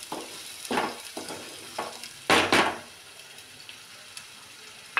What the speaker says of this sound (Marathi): ह्याला थोडंसं परतून घेते मी